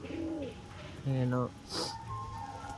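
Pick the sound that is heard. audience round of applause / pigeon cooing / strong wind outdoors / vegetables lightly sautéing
pigeon cooing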